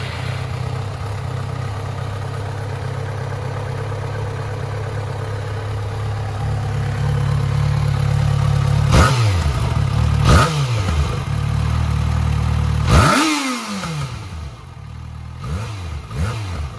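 A Yamaha XJ6 motorcycle fitted with an aftermarket slip-on exhaust idles steadily with a low throb, then is revved sharply several times, each blip rising and falling back to idle, close and loud.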